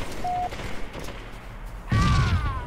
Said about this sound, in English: And death by explosion.